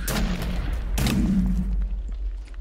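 Explosions and gunfire in Minecraft Crafting Dead: two sharp, loud booming blasts about a second apart, each trailing into a rumbling low tail, with scattered smaller pops fading toward the end.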